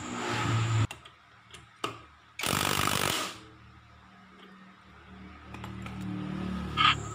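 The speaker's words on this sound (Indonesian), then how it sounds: "Kita kencangkan dengan impact ya, dengan torsi yang paling tinggi ini" An impact wrench rattles in a short, loud burst at its highest torque setting, tightening the CVT pulley nut on a Honda Vario 110 fi scooter, with quieter clanks and tool handling before and after.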